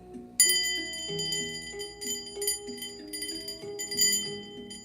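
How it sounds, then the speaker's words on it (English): A small secondhand hand bell from an op shop rings in a quick series of bright metallic strokes whose tones overlap and linger. It is close and clear, with no voices. "I've got my bell ready to go."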